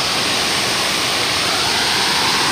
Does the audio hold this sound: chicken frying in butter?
no